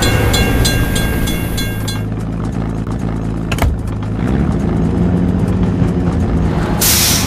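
A video game train rumbles past a level crossing with steady low-frequency clatter and a brief hiss midway, heavy and continuous, ending with a burst of broadband noise.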